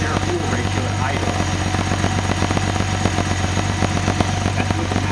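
A Nissan 280ZX turbo engine runs at idle on a Z31 300ZX turbo ECU, giving a steady low rumble with a constant hum and faint ticking, close up and unchanging.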